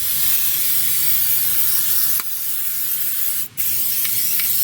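Rustproofing coating is sprayed onto a vehicle undercarriage and spare tire chain, a steady loud aerosol hiss that runs almost without break, with two brief pauses.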